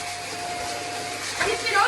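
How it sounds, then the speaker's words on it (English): A vacuum cleaner hoovering indoors gives a steady, close whining drone that swells louder near the end, with voices over it. "You decide now to do the hoovering."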